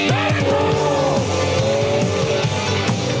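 An exotic sports car from a car-share club pulls away hard, its engine loud and close with rising and falling revs, tires squealing as it accelerates through gear changes.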